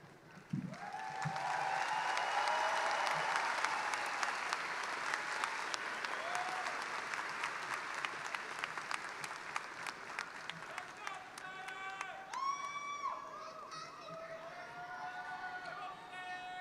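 Large audience at a 2025 Renton Technical College commencement breaks into sustained applause that swells quickly and holds steady, with whoops and cheers scattered through and a voice speaking over the end.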